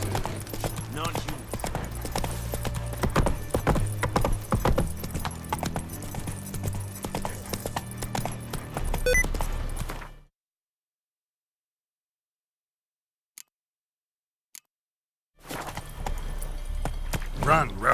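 Horse hooves clip-clop at a gallop in The Witcher 3 video game, a steady rapid beat under game voices and music, then a long drop to near silence broken by two faint ticks before the galloping resumes.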